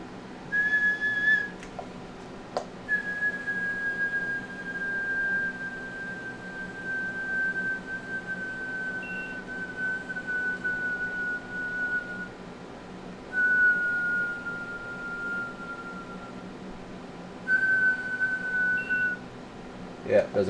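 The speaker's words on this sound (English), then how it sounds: "Just gonna put a quick whistle into it, which is a tone." A sustained whistled tone is fed into a Galaxy DX-47HP CB radio with a hi-cut filter. It holds steady and slowly drifts lower in pitch, breaks briefly between phrases, and carries a faint background hum.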